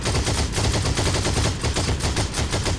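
Rapid gunfire from Heroes and Generals, a World War II shooter, fires in dense, repeated bursts at close range and stays loud throughout, with no voices over it.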